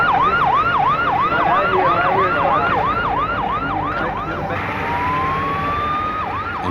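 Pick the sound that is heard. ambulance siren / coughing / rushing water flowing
ambulance siren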